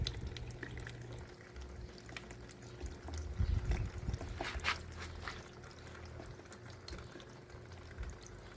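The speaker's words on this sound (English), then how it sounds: "That nice drips, that's a smaller hole. Here's a bigger hole where it pours out." Water in a DIY apartment hydroponic vertical garden, dripping from small holes and pouring from larger ones, a continuous close trickle and splatter with a slightly heavier surge partway through.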